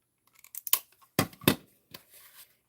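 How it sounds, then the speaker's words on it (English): Ribbon scissors snip through a piece of ribbon up close, with several quick, crisp cuts in small bursts and faint handling rustles between them. "I got my ribbon scissors here. So just like I did on the other one, I'm cutting a piece to wrap around"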